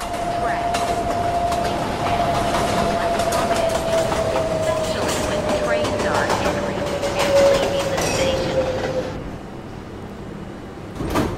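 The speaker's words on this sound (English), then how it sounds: "the next Uptown local train is now arriving on the" New York subway uptown local train pulling into the 42nd Street Port Authority station, a loud steady rumble and wheel clatter with a long falling squeal of brakes, then a sudden drop to quieter platform noise near the end.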